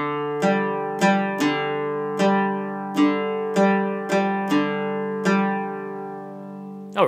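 An oud plays a melody at a faster tempo, the plucked notes ringing and decaying in a steady sequence, close and clear with no voice.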